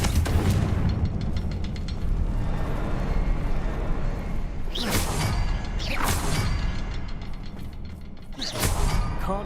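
Confringo fire-blast spell explosions in the fantasy game Hogwarts Legacy: several sharp whooshing bursts, three or four loud blasts spaced a second or so apart over a steady rumbling background.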